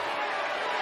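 Roaring basketball arena crowd during a hectic final minute before halftime at a Louisville vs Syracuse college game, a dense, steady wall of cheering and yelling that fills the whole short moment.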